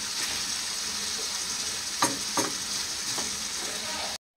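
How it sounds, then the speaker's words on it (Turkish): Ground beef mince fries in a pan, a continuous bright sizzle held close, with a few brief scraping stirs breaking through before a short cut near the end. "kıymamızı iyice kavuruyoruz suyunu çekene kadar"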